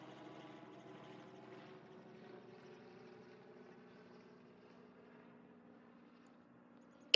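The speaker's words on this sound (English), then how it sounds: "Got a helicopter flying above us." Helicopter passing overhead at a junior girls' golf tournament, a faint, distant, steady rotor drone heard alone, ending in a sharp click.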